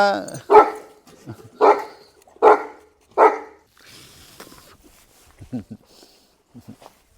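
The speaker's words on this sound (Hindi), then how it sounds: "ये बुल्ली कुत्ता है जो ये अपने पंजाब सिंध की ब्रीड है" A Bully Kutta, a Punjab and Sindh breed, barks in a run of four loud, evenly spaced deep barks, then softer, shorter yips and whimpers follow with a bit of background talk.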